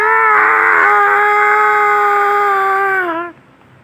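A woman's shrill, piercing scream held steadily for about three seconds, loud and close, then cutting off abruptly into near silence.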